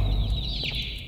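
A chicken in the video game Garten of Banban 2 gives a single short, squawking cluck, close and clear over a low background hum.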